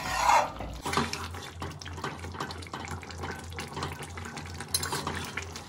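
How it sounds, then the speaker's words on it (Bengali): A spoon stirs garam masala into a mixed vegetable curry in a pot, giving soft, wet, irregular scraping and squelching close by, with a brief louder clatter at the start and no voices. "গরম মশলাটা দিয়ে একটু মিশিয়ে দিচ্ছি"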